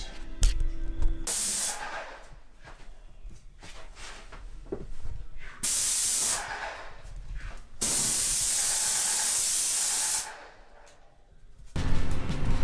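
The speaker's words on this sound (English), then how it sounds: "we use our Pro Magnum Pro X17 from Graco, and we are using the Bear Premium paint" Graco Pro Magnum Pro X17 airless sprayer laying Behr Premium paint on a vintage Airstream, several loud sustained hissing bursts of a few seconds each, separated by quieter clatter and pauses.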